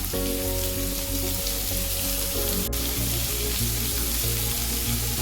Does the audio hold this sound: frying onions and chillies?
yes